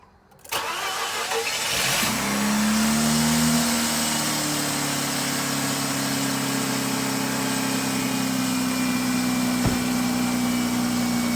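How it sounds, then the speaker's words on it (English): A Mazda RX-8 rotary engine cold-starts after a short crank, then settles into a steady, loud idle with a sustained mid-pitched drone that runs to the end, with no voices. "As you could see, guys, the engine starts right up, no problems."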